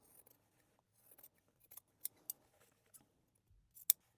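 Sewing scissors trimming a fabric seam allowance down to about a quarter inch on a sewn bag strap, several crisp, separate snips spaced irregularly, close and quiet with no talk.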